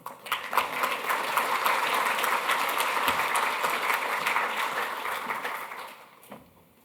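At a memorial session of a conference, an audience applauds to welcome a speaker, with dense steady clapping that holds for about six seconds and then fades out.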